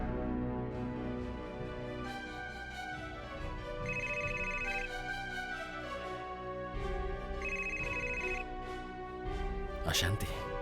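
A phone rings out in two bursts of a repeated electronic ringtone for an outgoing call, heard beneath a voice and background music from an Indonesian drama.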